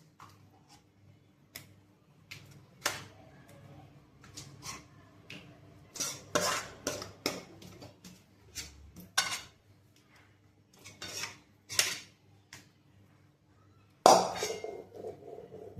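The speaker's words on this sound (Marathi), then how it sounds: "हे बघा, आता आपण हे मिश्रण असं छानपैकी इथे पसरवून घेऊ।" Hot gram flour batter made with buttermilk is spread thin across a plate, with intermittent quiet scrapes, taps and metallic clinks and a louder clatter near the end.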